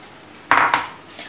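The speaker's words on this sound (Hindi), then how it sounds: "और इसको इसमें अच्छी तरह से मिक्स कर देंगे." Shredded chicken stirred into a thick sauce in a pan, with two quick metallic clinks of a spoon against the pan close by and quiet between them.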